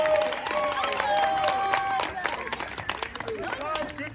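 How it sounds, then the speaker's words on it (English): Live audience clapping and cheering at an Old Town improv comedy show as performer Donnie Dempsey takes the stage, a dense crowd burst that stays steady for about four seconds with a sustained tone and scattered voices mixed in. "Everyone, a big round of applause. Please welcome Donnie Dempsey."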